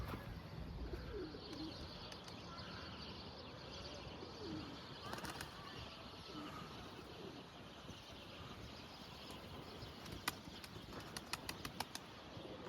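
Young pigeons flap and land near the loft, giving scattered wing-flutter bursts and light clatter, faint, over quiet outdoor ambience with occasional cooing.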